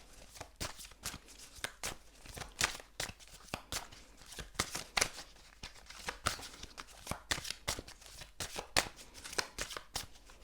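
Tarot cards are shuffled repeatedly at close range, a rapid series of sharp riffling snaps and soft slaps, fairly quiet with no talking.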